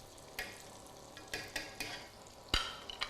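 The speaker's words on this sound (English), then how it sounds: "And you can see that it's got a light bubble, nothing too crazy, but it is hot enough to immediately seal the pastry." Pork spring rolls deep frying in medium-hot oil, with a faint light bubbling broken by scattered sharp crackles and pops, close by and with no talking.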